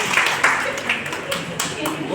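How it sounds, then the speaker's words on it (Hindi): Audience at a poetry gathering and book launch clapping briskly to welcome guests, a short burst of scattered applause with voices talking over it. "एक बार जोरदार तालियों से स्वागत करें"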